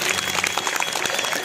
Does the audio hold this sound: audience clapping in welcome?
yes